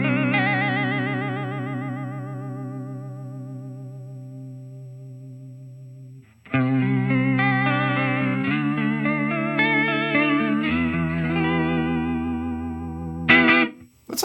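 A Line 6 HX guitar modeler's chorus effect at full mix, shimmering and wavering on a sustained electric guitar chord that fades out, followed by a run of strummed and picked chords with a brief bright burst near the end.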